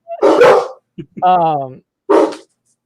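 Dogs inside a house bark at someone coming in, with a couple of loud close barks and a drawn-out whine or howl between them, set against otherwise quiet surroundings.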